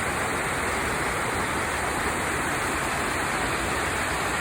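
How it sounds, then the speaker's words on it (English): Water falls steadily into the 9/11 Memorial reflecting pool fountain at the World Trade Center, a loud, unbroken broadband rush like a waterfall with no pauses, heard up close. "Sounds like a waterfall."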